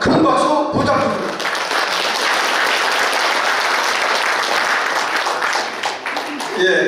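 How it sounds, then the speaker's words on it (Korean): A large crowd gives loud, sustained applause for a newly installed association president at an inauguration ceremony, the clapping steady and dense, with a voice briefly audible at the start and end. "다시 한번 큰 박수 부탁드립니다"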